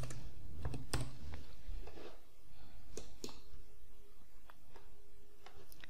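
Keys on a computer keyboard tapped to type a short search, several quick clicks in bursts with brief pauses, fairly close and with no talking.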